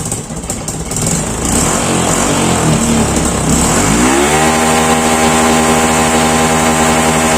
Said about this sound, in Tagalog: Sa low RPM pa lang, putol-putol na yung kuryente niya. At lalo na pagka nag-high RPM tayo, pigil yung takbo niya.